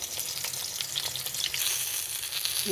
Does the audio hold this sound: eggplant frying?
yes